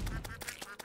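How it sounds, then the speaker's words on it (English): A cartoonish duck from the Terraria video game quacks several times in quick succession, short nasal bursts repeating roughly every fifth of a second, close and fairly loud. "It did the quack."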